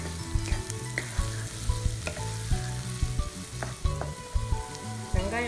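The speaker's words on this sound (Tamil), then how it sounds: "வெங்காயம் பாதி வதங்கிடுச்சு" Onions sizzle and fry in a pan for paneer keema masala, a steady close crackle broken by repeated scraping stirs, with no voices.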